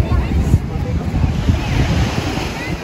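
Ocean waves wash onto a beach at Anyer, a loud continuous roar of surf mixed with gusty wind buffeting the microphone, with no distinct individual breakers.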